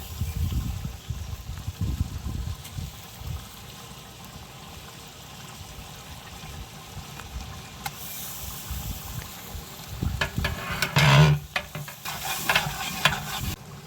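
Ginger and garlic sizzle in hot oil for a biryani cooked to feed a community, a steady frying hiss with stirring and scraping throughout and a louder burst of sizzle near the end.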